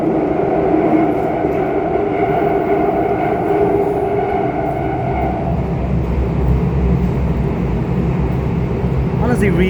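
Bombardier MOVIA C951 train running on Singapore's Downtown Line, heard from inside the car as a continuous low rumble and hum of motors and wheels, steady throughout with a brief higher swish near the end.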